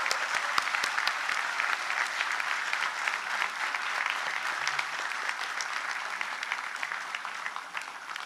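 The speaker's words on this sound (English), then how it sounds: "let us all applaud and congratulate the 15th graduating class of" A large crowd at the Royal Thimphu College 15th Graduation Day ceremony applauds the graduating class, a sustained, even wash of many hands clapping at a moderate distance, tapering slightly toward the end.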